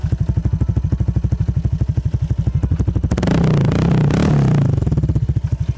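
A motorcycle with a Namban exhaust pipe idles with a loud, rhythmic thumping pulse. It revs up into a dense, raspy roar for about a second and a half, then drops back to the same chugging idle.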